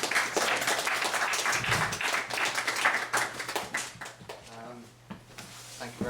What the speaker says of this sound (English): let's have a round of applause for our speaker